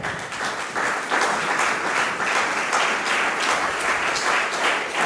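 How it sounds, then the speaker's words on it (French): A church congregation bursts into sustained applause, many hands clapping in a dense, even wash that holds steady and loud for several seconds, with a few faint voices mixed in. "Est-ce qu'on peut acclamer la parole?"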